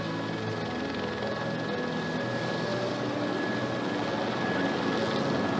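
Steady broadband roar of an airplane braking hard down a runway after a hard landing on damaged landing gear, loud and continuous with a constant engine tone throughout, no voices.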